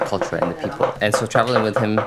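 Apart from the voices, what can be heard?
No everyday noises stand out.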